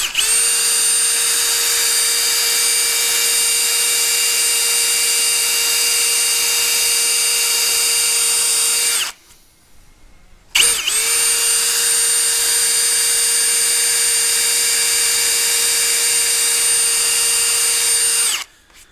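Drill countersinking screw holes in wood whines loud and steady at close range in two long runs, with a short silent break between them.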